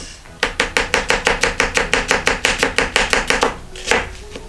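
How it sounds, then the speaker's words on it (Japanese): A knife slices through an onion on a cutting board for a curry, about seventeen crisp, evenly spaced chops in a quick steady rhythm, close and clear, with one last stroke after a short pause. "この玉ねぎは、スライスしていきますね"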